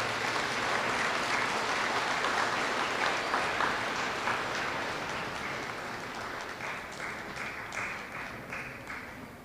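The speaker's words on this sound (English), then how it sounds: "Round of applause for our fourth grade students." Applause for fourth grade students fills an elementary school awards assembly, a broad sustained clapping from the gathered audience that thins gradually, with scattered individual claps standing out as it winds down.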